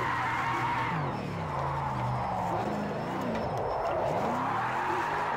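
Game-engine car noise from a Ford Mustang RTR in Project Cars 2, with a steady droning motor and wavering tire squeal as the car slides and drifts on the handbrake, continuous and loud throughout.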